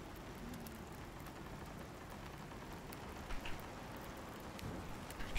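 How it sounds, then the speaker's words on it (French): Steady rain from a storm in the survival video game Icarus, a soft continuous hiss at low level with no clear thunder, just a couple of faint bumps partway through. "Bah on attend la fin de la tempête."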